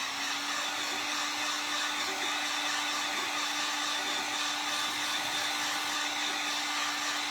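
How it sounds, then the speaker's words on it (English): Hair dryer blowing on freshly painted glass for a Christmas craft: a continuous, even, close whooshing roar with a steady motor hum, running alone without pauses or talk. "Now, I'm going to dry this real quick."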